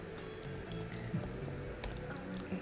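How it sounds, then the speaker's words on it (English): Rapid clicking keystrokes on a computer keyboard as a channel name is typed, quiet and close, in short irregular bursts with no talking. "So I could type in my channel name."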